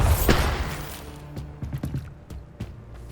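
Bombarda blasting spell cast in Hogwarts Legacy on PS5: a loud burst that decays over half a second, followed by scattered thuds and crackling impacts.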